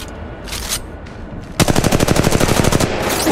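Rapid automatic gunfire bursts out in a video game, a fast even stream of close, loud shots following a quieter stretch of faint game ambience.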